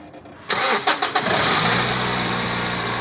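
A noisy Toyota Vios gen 2 engine starts, catches after a moment and settles into a loud, rough, steady running drone with broadband rattling noise.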